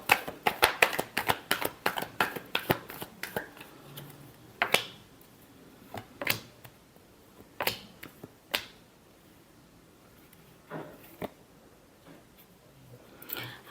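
Tarot cards are shuffled in a quick burst of sharp riffling snaps, followed by sparser single flicks and taps spaced out over the rest, quiet and close with no talk.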